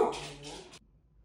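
A pet dog indoors gives a short burst of whimpering yips and a bark, fairly close and moderately loud, then falls quiet.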